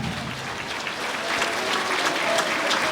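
A church congregation in Sucre, Bolivia applauds during a service, a dense, continuous roar of many clapping hands that swells slightly toward the end.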